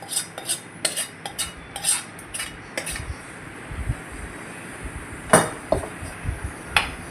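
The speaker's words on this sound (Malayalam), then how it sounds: "നല്ല രീതിക്ക് മിക്സ് ചെയ്തെടുക്കുക." A traditional pork roast being mixed with sautéed onion paste in a pot, with a quick run of close cutlery clinks and scraping stirs, then softer, sparser taps.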